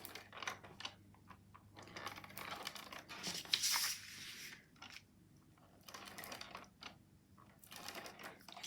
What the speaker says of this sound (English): with my 1/4 inch tape runner, I'm going to put two 2 lines down it.